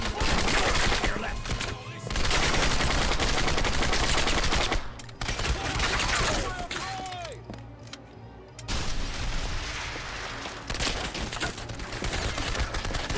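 Sustained full-auto gunfire from Turning Point: Fall of Liberty on Xbox 360, loud dense bursts running almost the whole time with one brief pause, some other game sounds mixed in.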